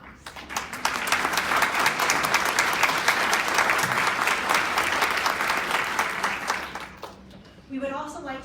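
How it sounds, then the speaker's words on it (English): Sustained audience applause for representatives standing at a women's legislative briefing fills most of the stretch, steady and dense, then breaks off near the end as a voice starts speaking. "Would these representatives please stand for a round of applause?"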